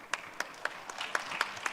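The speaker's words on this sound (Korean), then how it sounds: "큰 박수 부탁드립니다" Scattered audience clapping at a fintech conference panel, a thin, sparse run of individual claps at a fairly steady rhythm, quiet and brief.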